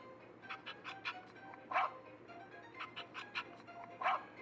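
A hungry cartoon dog barking and yipping in a children's story, a series of short sharp barks in an irregular rhythm, moderately close.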